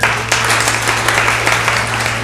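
A comedy fundraiser crowd applauds, a steady wash of clapping with a low electrical hum underneath, loud and continuous for a couple of seconds.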